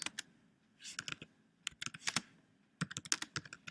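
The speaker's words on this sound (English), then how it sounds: "If you click in there and you should get a cursor, you can type your text" Bursts of quick, light keystrokes on a computer keyboard, clustered in short runs separated by pauses, close and fairly quiet, with no talking.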